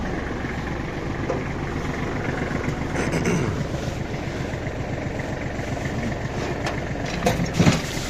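A Kubota GL21 mini tractor engine idles with a steady low rhythmic chug, joined by some wind noise and a few brief knocks toward the end.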